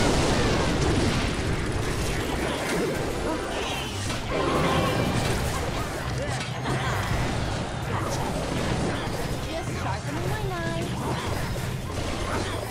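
A rocket spell blasts in a video game, a loud burst amid a dense, continuous bed of battle effects, music and crashes, with a voice talking over the action.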